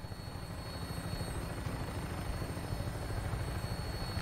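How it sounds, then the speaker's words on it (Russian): Vertibird helicopter flying in Fallout 4, a steady low rotor drone with a broad rumbling wash that holds constant and alone throughout. "Так, то я буду летать на вертолете этом, а не на дирижабле, очевидно."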